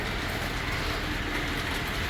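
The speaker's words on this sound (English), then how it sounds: "Having received clearance, the IC Bicentennial train approaches" Model railroad train, the IC Bicentennial, rolling steadily along the track on a layout, a continuous low rumble with faint clicking under it, fairly loud and unbroken, with no voices.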